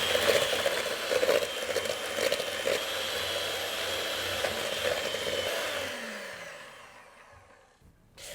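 An electric hand mixer whirs steadily through cake batter sweetened with German vanilla sugar, a loud continuous motor drone that fades and winds down near the end.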